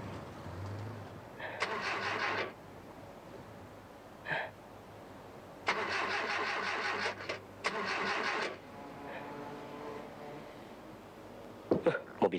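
A car engine is cranked over and over and refuses to catch: several separate bursts of grinding starter noise, each a second or so long, broken by pauses and quiet movement sounds.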